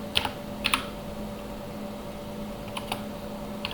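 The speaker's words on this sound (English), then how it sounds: "First I type program in here, input A, input A and B," Light clicking of typing on a computer keyboard in a quiet room, in a few short clusters of keystrokes separated by pauses, with a steady faint electrical hum beneath.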